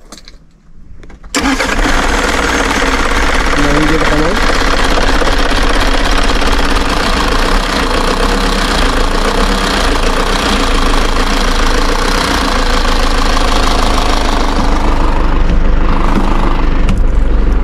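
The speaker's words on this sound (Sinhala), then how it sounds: "මම පොඩ්ඩක් බස් එක ස්ටාර්ට් කරලා පෙන්නන්නම්" A Mitsubishi Rosa bus engine cranks and catches after a quiet moment, then settles into a loud, steady diesel idle with a rough knocking rumble that continues to the end.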